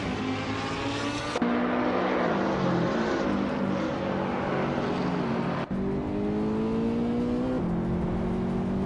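A Ferrari and a Lamborghini race in a video game, a steady loud engine whine with shifting pitch, an abrupt gear change, then climbing revs and another shift, with no voices.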